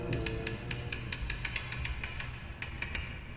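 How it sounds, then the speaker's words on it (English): Rapid, evenly spaced metallic clicks of lock tumblers, heavily amplified, tick over a low mechanical hum, about four per second, sharp and close. "the clicking noises you hear are the tumblers of a lock"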